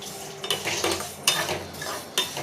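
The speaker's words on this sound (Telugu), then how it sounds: "అది కరిగాక సేమియాని వేసుకొని బాగా వేయించుకుందాం" Vermicelli is fried in melted ghee in a kadai and stirred, with faint sizzling beneath repeated metallic scrapes and clinks of a spoon against the pan.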